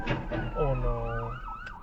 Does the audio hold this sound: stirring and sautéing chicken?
no